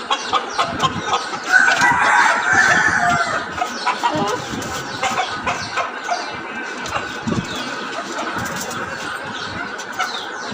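Several chickens cluck and a rooster crows in a busy coop, steady overlapping calls close by with no talking.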